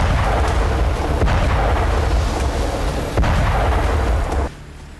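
An M270 MLRS rocket artillery launch from an artillery battalion, a loud sustained roaring rush with sharp bursts, ending abruptly near the close.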